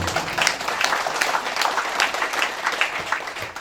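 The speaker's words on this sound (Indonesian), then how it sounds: "Tepuk tangan dulu." Audience applause at an engagement (proposal) ceremony, with steady, dense clapping from a crowd continuing throughout at moderate volume, with no talk.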